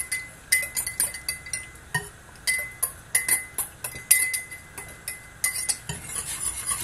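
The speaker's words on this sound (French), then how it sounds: "Et on touille." A spoon or whisk clinks repeatedly against a pot while cornstarch is stirred into hot milk for béchamel, quick bright taps in an uneven rhythm, close and clear with no talk.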